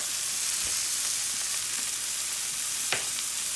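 Leek greens fry in butter in a pan, giving a steady close sizzle with a few faint taps and stirring clicks, and no talk over it.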